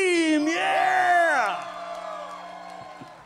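At a live concert in a conference center, a crowd screams and whoops, loud sustained yelling that swells and then tails off while people keep cheering.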